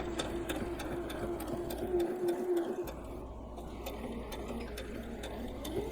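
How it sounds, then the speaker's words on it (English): A sewing machine stitches a baby burp cloth, a steady rapid mechanical whir with a regular ticking needle rhythm, close and continuous, at moderate volume and without speech. "I'm ready to start sewing"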